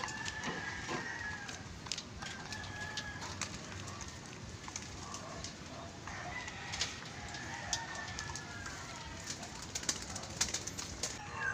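Racing pigeons at morning feeding, with soft cooing and clucking from a flock under a steady, fairly quiet outdoor background, and no talking.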